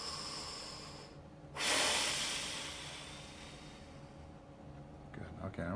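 A person breathes during a 90-90 breathing exercise, with a strong, close inhalation and a long, slowly fading exhale against a steady background hiss.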